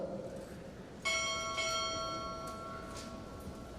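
A ship's bell rings twice in quick succession at a naval chief petty officer pinning ceremony, the bright metallic tones ringing out and decaying slowly over a quiet room.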